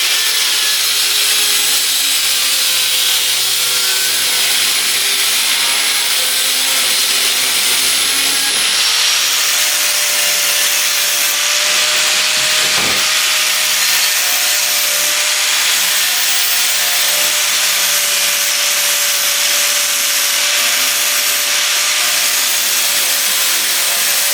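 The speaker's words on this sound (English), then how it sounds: "I'm gonna cut this mesh out because I wanna prime that as well" Steady hissing, rasping cutting noise as the mesh is cut out of a custom grill for a TDI-swapped Toyota pickup, loud and continuous throughout with no talking.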